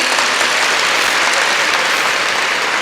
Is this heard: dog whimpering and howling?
no